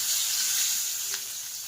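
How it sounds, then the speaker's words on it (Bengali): Fish sizzling steadily in hot oil in a pan, a bright continuous hiss close by, with a brief louder crackle partway through and no talking. "আর এই যে মাছটা এবার ভাজবো"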